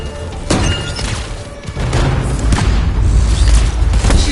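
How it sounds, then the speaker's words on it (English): A heavy detonation booms in the video game Anthem, with a sharp crack and shattering debris, then rolling low rumbles and repeated thuds that keep the sound loud and dense throughout. "Tanks ready? Stand clear for detonation."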